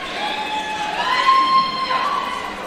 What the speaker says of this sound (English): You can just hear the cheering from the crowd